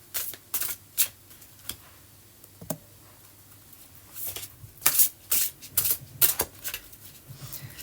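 A deck of tarot cards is shuffled close up, with soft irregular riffling snaps and flutters in quick bursts, faint and alone without talk.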